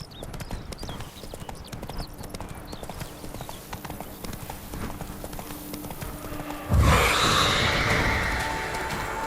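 Roach, Geralt's horse in The Witcher 3: Wild Hunt, clip-clops at a steady walking rhythm with close, distinct hoof knocks, and a louder burst of rushing noise breaks in near the end.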